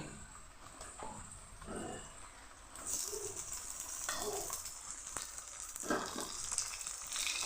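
Onion and ginger fry in a pan as chopped tomato goes in for a soybean curry. A soft sizzle rises into a louder hiss partway through, with faint bird cooing in the background and no speech.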